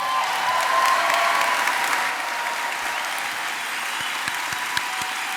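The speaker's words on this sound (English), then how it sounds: "Yeah, let's clap." A crowd at a nursing school pinning and recognition ceremony claps steadily, a dense sustained wash of applause that eases slightly toward the end with a few distinct claps standing out.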